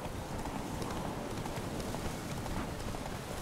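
A horse gallops in the video game The Witcher 3, producing a quick, steady clip-clop of hooves over a soft background hiss, moderately quiet and continuous.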